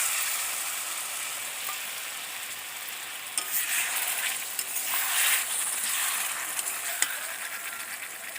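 Potol (pointed gourd) frying in a pan with spices as mustard-poppy seed paste is added: a continuous close hiss and sizzle, with occasional scraping stirs and small clinks rising in the latter half.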